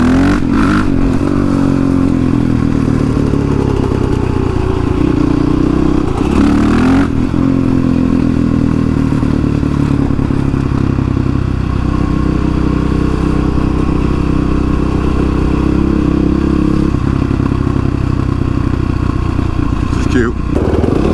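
A Honda CRF 450X supermoto motorcycle rides along with a steady, loud engine drone that rises and falls with throttle, under wind rush, while voices talk over it.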